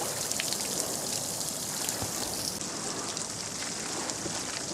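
Steady rushing of water flowing from a working pump into a channel, a continuous broadband wash with no gaps, fairly close and alone with no voices.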